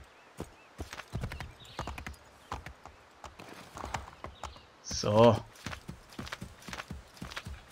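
Rhythmic clip-clop of a horse's hooves at a walk in the video game Assassin's Creed III, punctuated by a short whinny, with someone talking over it.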